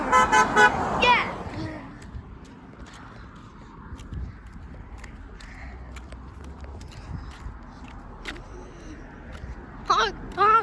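Car horns honk on a street, with short toots near the start and again near the end, while voices talk over the traffic.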